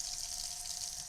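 Cold water runs steadily from a kitchen tap, a quiet, even hiss with no pauses over about a second and no voices.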